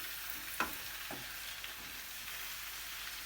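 Dried peppers sizzle and crackle steadily as they roast in a hot pan, a constant frying hiss with a couple of brief stirring clatters near the start.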